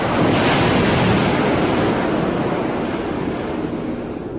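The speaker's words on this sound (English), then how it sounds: "Very windy." Steady, loud wind roaring and gusting across an outdoor area in the video game The Old City: Leviathan, a broad continuous rush like surf that fills the whole stretch with no voices over it.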